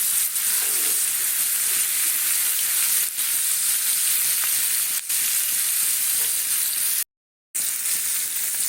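Potato and soybean curry cooking down in oil fries with a loud, continuous close sizzle, broken by a few stirring knocks and a brief silent gap.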